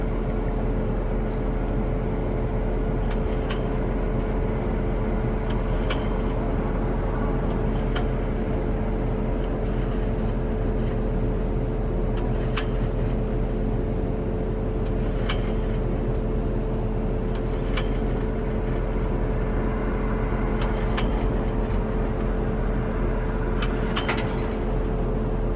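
A generator runs in the back of a truck, giving a steady, unbroken engine drone and hum for the whole stretch, with faint intermittent clicks and ticks on top.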